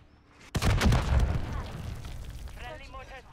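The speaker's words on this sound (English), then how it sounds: "Friendly mortar strike on the way." A mortar strike in a Call of Duty match lands with a sudden loud boom followed by rolling rumble and debris, while a voice speaks faintly toward the end.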